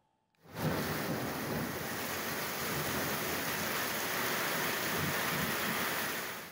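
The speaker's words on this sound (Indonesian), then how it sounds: "Hujan lebat disertai angin kencang mengakibatkan banjir di Desa Cikande" Heavy rain driven by strong wind in Cikande village, Saguling, West Bandung, during a flood, a dense, loud, continuous roar that starts abruptly and holds steady without voices.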